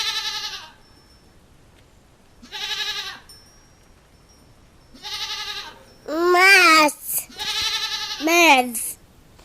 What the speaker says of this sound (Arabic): معز.